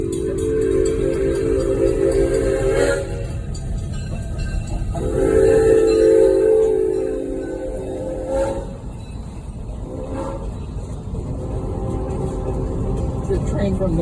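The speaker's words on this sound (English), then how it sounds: "Is it a train from the train museum? Yeah, it's a World War II one." A World War II era train from a train museum rumbles past nearby with a heavy, continuous low roar and sustained horn-like tones that swell and fade, with voices talking underneath.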